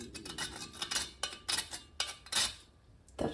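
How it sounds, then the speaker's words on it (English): A whole nutmeg scraped across a microplane above a pan, giving a run of short, bright rasping strokes in an uneven rhythm, close by and fairly quiet, with brief pauses between bursts. "I'm gonna use a microplane to just grate a bit over the pan"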